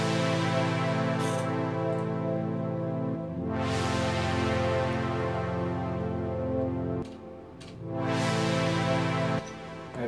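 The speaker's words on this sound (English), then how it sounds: "A pretty boring pad sound." A sustained synth pad made with Serum and played in Renoise holds a thick, steady chord. Swelling tones rise through it twice and the chord shifts a few times, with no voices.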